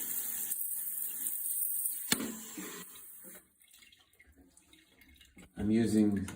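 A toothbrush is wetted under a running tap, a steady hiss of water that drops to a quieter trickle before a voice speaks at the end.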